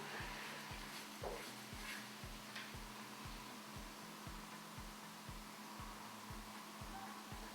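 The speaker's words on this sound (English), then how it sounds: "You've got to remember to dry it with a hairdryer in between though." A hair dryer drying paint blows steadily with a broad airy whoosh and a low pulsing hum, running continuously at moderate volume without speech.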